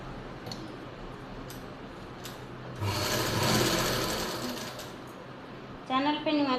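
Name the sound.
sewing machine stitching trouser waistband strip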